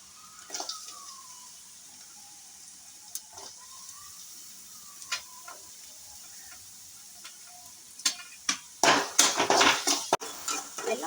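Garlic, green chili and onion sautéing in a hot pan, with a steady close sizzle, then louder stirring clatter of a utensil against the pan toward the end.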